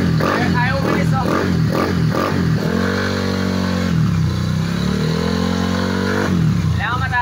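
A motorcycle engine on a DIY setup revs hard at high RPM, rising and falling in several loud bursts before settling into a sustained high drone, close to the microphone, while someone talks over it.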